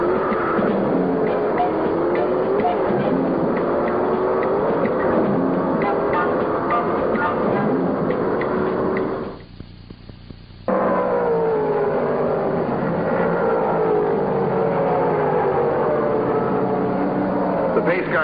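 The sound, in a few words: 1968 modified stock cars circling Martinsville track under caution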